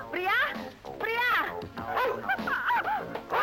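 A dog barks and yips close by in repeated short bursts, mixed with excited human voices.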